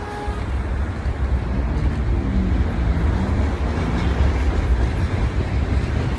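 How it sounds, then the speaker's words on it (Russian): A steady low rumble of a train rolling past at a distance, heard from under a bridge in Taraz, continuous and even throughout, with no voices. "смотрите, как раз ездят поезда"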